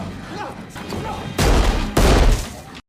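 Two sharp, loud pistol gunshots in a film struggle scene, each a heavy broadband blast following a stretch of low background sound, ending abruptly.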